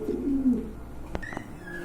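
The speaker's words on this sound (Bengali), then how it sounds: "এখন কিন্তু আরেক জোড়া কবুতর দেখতে পাচ্ছেন" Imported pigeons at a breeding farm give a soft, low cooing in the first half, close and clear, followed by a sharp knock and a few thin higher chirps over quiet background.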